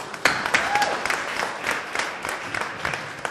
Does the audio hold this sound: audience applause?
yes